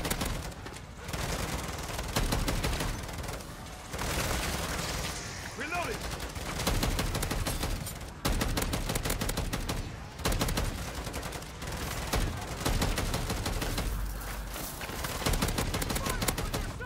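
An automated turret in MW3 Zombies fires repeated loud bursts of automatic gunfire with short pauses between volleys, while voices talk over the shooting.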